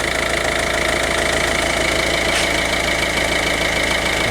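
A Volvo car engine idles steadily up close after a flywheel repair, a constant even hum with a faint rhythmic ticking and no change in pace.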